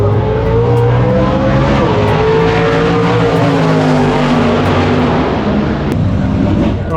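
Race cars speed past on a track with sustained loud engine roar, pitch sliding as the cars pass close by, and a continuous dense drone throughout.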